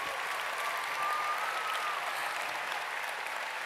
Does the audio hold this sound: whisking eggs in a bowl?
no